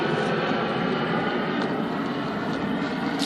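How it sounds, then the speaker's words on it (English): An airplane taking off, heard as a steady broad roar of engine noise somewhat distant and continuous, with wind rumble on the microphone and no talking. "It's shooting this airplane toward the sky."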